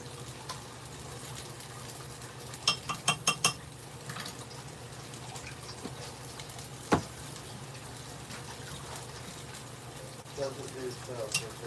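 A spoon stirs pancake batter with baking powder and baking soda in a home kitchen, giving a few soft clinks against the bowl over a low steady hum, fairly quiet, with no one speaking over it.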